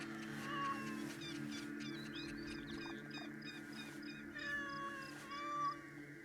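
A Calico Bobtail cat in the video game Assassin's Creed Shadows meows several times, soft at first and then louder, high drawn-out cries over a steady game ambience with some birdlike chirps.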